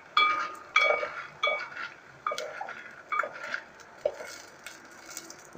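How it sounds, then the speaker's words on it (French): Palm kernels roasting in a pot for palm kernel oil are being stirred, giving irregular metallic scrapes and clinks at roughly half-second to one-second intervals, close by over faint background noise, with no talk. "Il faut tourner chaque 5 minutes au moins pour permettre à toutes les graines de pouvoir produire de l'huile."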